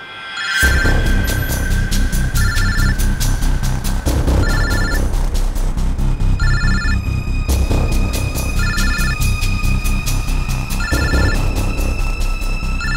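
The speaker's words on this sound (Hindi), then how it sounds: "किसी का फोन बज रहा है" A mobile phone rings from inside a bag, its ringtone repeating in short bursts about every two seconds over a steady, loud background drone.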